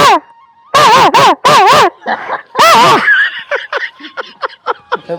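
A person mimics a dog barking and yelping with a rapid run of loud, high, wavering voiced yaps and yips, followed by shorter, softer yelps trailing off.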